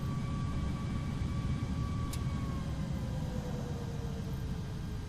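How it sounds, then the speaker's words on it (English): The auxiliary power unit of a JARDesign A330 spools up in the X-Plane 11 flight simulator: a soft, steady whine that slowly drops in pitch over a constant low rumble, with a brief click partway through and no talking. "And APU starting."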